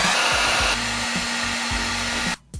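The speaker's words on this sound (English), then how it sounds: "And now it's time to heat shrink." A heat gun shrinks heat shrink tubing over guitar pedal wiring, giving a steady loud blowing roar with a low hum, easing slightly partway through and cutting out briefly near the end before resuming.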